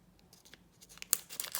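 Scissors snip open a thin trading-card booster pack, giving a few quiet crisp cuts and crinkles that build to sharper tearing near the end, close up and alone.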